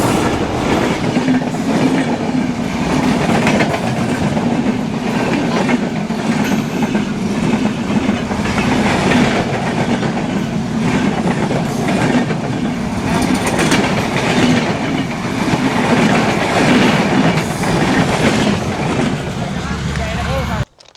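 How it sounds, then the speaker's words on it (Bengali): A train rolls past on a railway line at Konabari, Gazipur, with a loud, continuous rumble and rhythmic wheel clatter close by, while people talk over the passing cars. "ট্রেন আইতেছে ও মাই গড"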